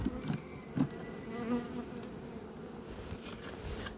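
Honeybees buzz steadily inside a hive that has been raided by mice, a dense close-up drone with a few louder swells near the start and no voices.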